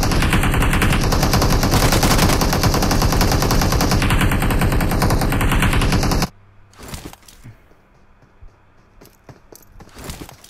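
Video game gunfire: about six seconds of loud, unbroken automatic fire, then a quieter stretch of scattered single shots and short bursts.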